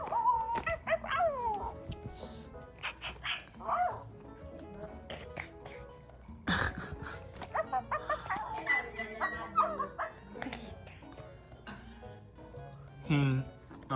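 A new puppy whimpers, whines and gives high yips in short bursts. The sounds come close and fairly quiet, mixed with family members talking and a few taps and thumps.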